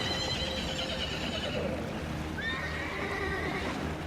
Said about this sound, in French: les chevaux qui nagent derrière l'embarcation se débattent et disparaissent sous les flots